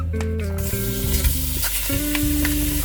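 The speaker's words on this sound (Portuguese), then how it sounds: "A panela tá quente, eu coloco o frango dentro, não lavo." Loud, steady sizzling of chicken frying in a hot pan, close up, with music playing in the background.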